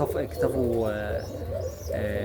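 Egyptian kishk pigeons cooing in a loft, soft repeated low coos and throaty calls close by, with someone talking over them throughout.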